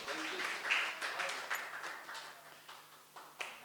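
Audience applause at a music festival concert, a moderate crowd clapping steadily with scattered sharp claps, slowly fading out over a few seconds.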